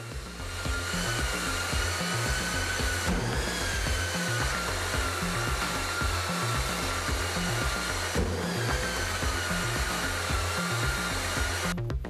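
A Festool Planex LHS 225 long-reach drywall sander runs together with a CTL 36 dust extractor, giving off a steady, loud whirring roar with a constant motor whine that holds unbroken throughout.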